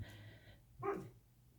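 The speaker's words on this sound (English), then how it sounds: "the dog's just done a little woof" A dog indoors gives one soft, low woof, faint and somewhat distant, over a steady quiet room hum.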